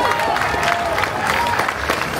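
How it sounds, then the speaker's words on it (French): Crowd applause for a cyclist at the Paris-Roubaix 2024 rider presentation, a dense steady clapping with some cheering from a large outdoor audience, fairly loud and continuous, with a faint voice over a loudspeaker. "Vos applaudissements pour Sylvain Dillier."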